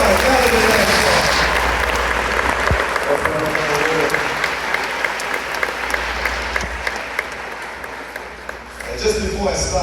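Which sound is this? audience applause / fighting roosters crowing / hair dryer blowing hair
audience applause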